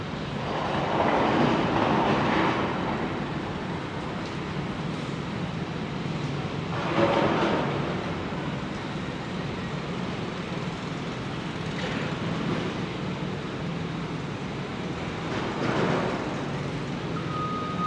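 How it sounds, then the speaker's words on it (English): A loud New York City subway train rumbling past in the open air, a continuous heavy roar with periodic rattling surges over about eighteen seconds, close and dominant. "Very noisy train."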